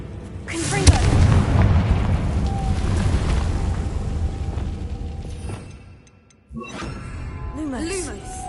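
A Confringo fire spell from Hogwarts Legacy bursts into a loud booming explosion with rumbling debris that fades out, followed by softer magical chimes after a brief near-silence; a voice calls out a spell.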